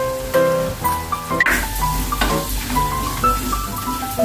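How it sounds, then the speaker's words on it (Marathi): Mixed masala spices frying in oil with softened tomatoes, stirred in a pan for a Maharashtrian masoor usal; a steady close sizzle with scraping stir strokes, under background music carrying a tune throughout. "मसाला चांगला परतून घेऊया"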